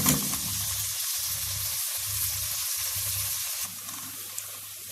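Onion frying in a pan, a continuous soft sizzle and crackle with pulsing low bubbling underneath, fairly quiet and close, with no voices.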